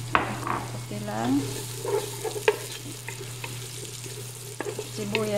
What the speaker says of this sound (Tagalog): So ngayon, umpisan na natin, igisa natin yung mga gigisahin. Yung sibuyas